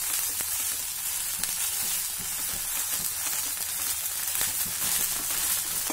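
Thalipeeth dough sizzles steadily on a hot griddle, with a constant close frying hiss and small crackles and no voices.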